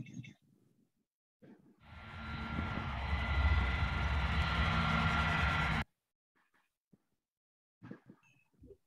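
A jet airliner's engine roar plays from a video in a room, a broad steady rumble that swells in for about four seconds and cuts off abruptly, with people talking faintly before and after.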